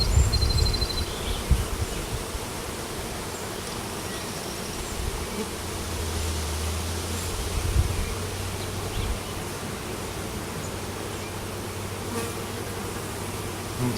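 A swarm of honey bees festooned on a wall hums with a steady, dense buzz, close and continuous, with a few brief louder individual bees passing near; no talking.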